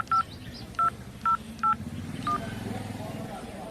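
Telephone keypad tones sound as a number is dialed in a Gujarati comedy skit: five short, sharp beeps at an uneven pace, close and clear over steady background noise and murmuring voices.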